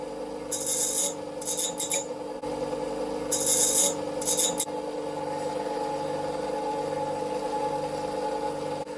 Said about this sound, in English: I'm just going to start using a file, but I'm just going to put a bit of a curve on here so it's not too sharp